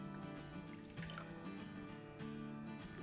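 Water from boiled spinach strains away in a soft, steady trickle and drip, faint and close, with a low background hum and no talking.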